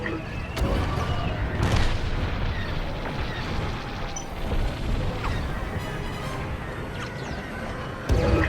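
Weapons fire in the Star Wars Squadrons space combat game: repeated sharp blasts and booms over a dense, roaring battle din, with a louder impact at the very end.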